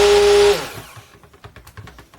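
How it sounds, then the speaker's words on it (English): A stick blender whirs loudly while mixing goat milk soap for about half a second, then cuts out, leaving faint clicks and rattles as it settles. "I'll stick my blender in here."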